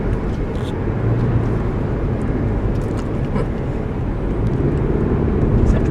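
Toyota RAV4 giving off a steady vibrating drone while accelerating, a continuous low rumble of road and engine noise heard from inside the cabin at a constant level throughout.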